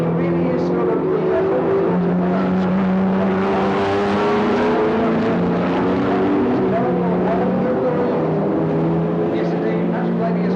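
Racing cars lap the Thruxton circuit at a 1995 Aston Martin Owners Club meeting, their loud engines droning and whining continuously as they pass close by.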